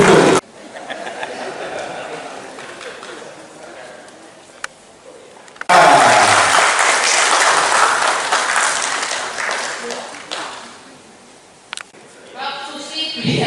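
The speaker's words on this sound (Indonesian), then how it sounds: "Tepuk tangan lagi untuk buku politik hukum" Applause at an Indonesian book launch for a political law book, a long burst of clapping from an audience with some chatter, fading briefly then swelling again loudly.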